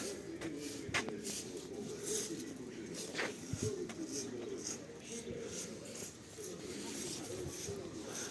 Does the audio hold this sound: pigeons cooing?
yes